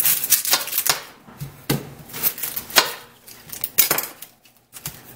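A knife cuts through a large onion held in hand rather than on a cutting board, giving sharp irregular chopping clicks and taps close by, with short pauses between strokes.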